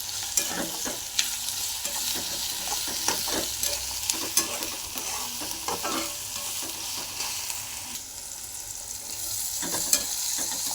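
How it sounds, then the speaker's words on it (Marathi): Onions fry in a pan with salt for egg bhurji, a steady close sizzle broken by frequent scraping stirs of a spoon against the pan, no voices. "कांदा छान भाजला आहे, गुलाबी कलर आलेला आहे"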